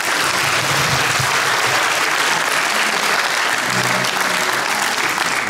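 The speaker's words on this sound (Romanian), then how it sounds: "Bateți o dată din aplauze," Loud, steady audience applause fills a comedy show venue on a touring stand-up night, dense and continuous from start to finish with no pause.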